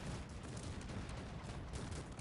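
Cannon and artillery fire during a siege battle in the strategy game Cossacks 3, a dense continuous barrage of overlapping booms and gunfire heard alone at moderate loudness.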